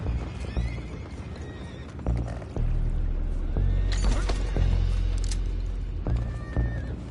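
Horses whinny several times in Red Dead Redemption amid clopping hooves and splashing water, the neighs rising sharply in short bursts over a constant churning background.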